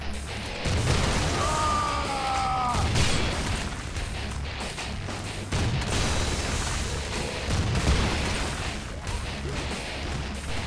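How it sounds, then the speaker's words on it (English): Heavy booms and crashing blasts from a grenade launcher in the PC zombie shooter The Haunted, several loud explosions in a row over a dense rumbling game soundscape, with no speech. "you can find plenty of special weapons in the maps, such as flamethrowers, sniper rifles, and my favorite, a grenade launcher"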